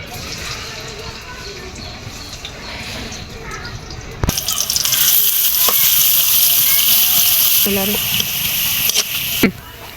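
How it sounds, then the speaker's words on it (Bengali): Onions hit hot oil with a sudden sharp burst of sizzling that then stays loud and steady, with a few clinks. A quieter stretch comes before it, and a voice talks over the frying. "এখন আমি তেল দিয়ে দেবো পেঁয়াজ দিয়ে দেবো"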